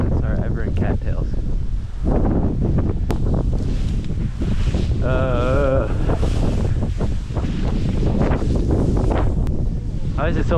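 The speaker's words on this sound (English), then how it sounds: "Why is it so windy?" Strong wind buffets the microphone outdoors on public land in cattail marsh during a pheasant hunt, a loud, roaring, gusting rumble that runs throughout with brief voice-like sounds under it.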